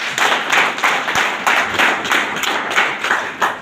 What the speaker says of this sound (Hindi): एक बार आप सबके लिए जोरदार ताली